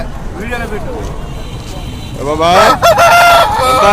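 A rooster crows loudly nearby at a country chicken market, with other fowl calling and clucking, while people talk in the background.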